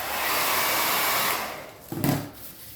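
A heat gun blows a steady, loud broadband whoosh of hot air over woodgrain vinyl wrap stretched across interior console trim, holding even for over a second before tapering and ending with a short bump of handling noise.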